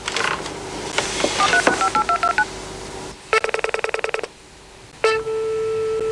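A telephone number dialed on a keypad, with bursts of clear DTMF tones in quick irregular runs, then a faster even sequence of beeps, ending in a sustained ringing tone with no talk.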